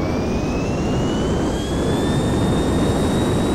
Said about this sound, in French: vous pouvez avoir un avion, surtout de chasse